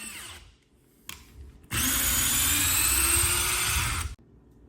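A DeWalt Xtreme 12V DCF601 cordless screwdriver drives a screw into wood. A couple of faint clicks come first, then a loud, steady motor whir runs for about two and a half seconds and stops abruptly.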